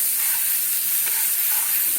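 Jackfruit pieces frying in a hot pan for kofta curry, a loud continuous sizzle and hiss with faint stirring scrapes, close and alone.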